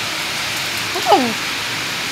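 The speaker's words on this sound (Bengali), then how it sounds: "মুষলধারে বৃষ্টি হচ্ছে।" Heavy monsoon rain pours in a dense, steady wash during a thunderstorm, with a brief voice sound rising over it midway.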